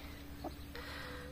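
Hens in France give a couple of faint, brief clucks against a low background hum, distant and quiet.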